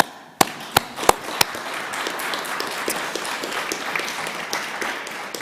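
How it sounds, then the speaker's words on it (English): A seminar audience gives a round of applause, opening with a few sharp separate claps before settling into steady, fairly close clapping from the crowd. "I think that also calls for another applause"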